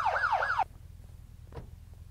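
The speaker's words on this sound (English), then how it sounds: "Alright, I've got to turn the siren off," A wailing police car siren in MadOut2 sweeps up and down rapidly for about half a second, then cuts off abruptly, leaving faint background noise and a soft click.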